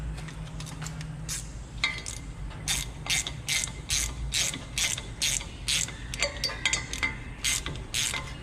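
Worn front wheel bearing from a 2005-2019 Toyota Tacoma front hub assembly, giving a series of sharp ratcheting, grinding clicks in an irregular rhythm, close and fairly loud with no talking.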